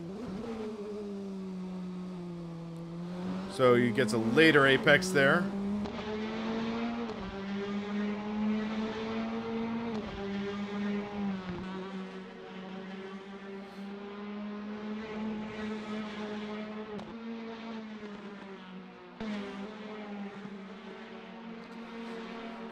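Four-cylinder Praga R1 race car engines in a sim racing game at Barcelona: a steady, buzzing engine drone that holds pitch, with a brief rev spike early on and a commentator talking over it.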